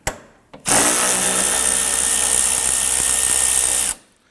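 A power driver with an 8mm socket on an extension spins out a screw on a 2015-2020 Ford F-150 grille shutter, one steady loud whir lasting about three seconds after a brief blip.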